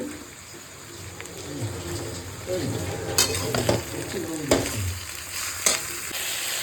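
Chicken fries over high heat in a pan, a steady close sizzle with occasional scraping stirs and clinks throughout.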